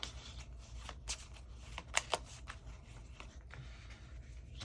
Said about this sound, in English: shuffle up the 1s, pick 2, and put the gold 1 on top